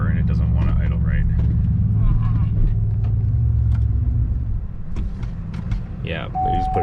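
A race car engine idles roughly at high altitude, a steady low rumble with an uneven throb, close by and continuous under people talking.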